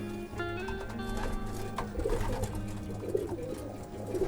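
Racing pigeons in a loft coo softly and repeatedly in a steady low murmur, with a constant hum and some rustling in the background.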